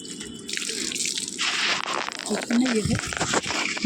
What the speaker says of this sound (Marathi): किती छान वाटतं गार पाणी पायावर पडल्याबरोबर